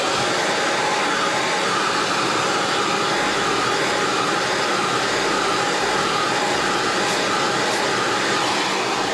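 A blow dryer heats a sticker, running as a steady, loud, close whooshing roar of hot air without breaks for the whole stretch.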